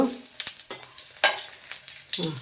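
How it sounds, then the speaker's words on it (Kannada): Ginger and garlic frying in a pan over a low flame for a Mangalore mutton sambar, with a steady close sizzle and a few sharp stirring scrapes and clinks across a couple of seconds. "ಶುಂಠಿ ಹಾಕಿ ಹುರಿ ಅದನ್ನು ಆಮೇಲೆ ಬೆಳ್ಳುಳ್ಳಿ ಹಾಕು ಸಣ್ಣ ಉರಿಯಲ್ಲಿ ಇಟ್ಕೊಳ್ಬೇಕು"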